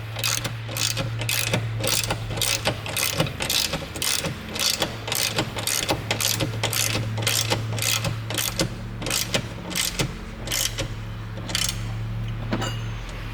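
A wrench ratchets bolts tight on a harness mount of a 2021 Polaris General XP 1000, giving a long, steady run of rapid, evenly spaced clicks over a low background hum, close by and without speech.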